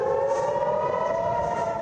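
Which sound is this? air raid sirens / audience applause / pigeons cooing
air raid sirens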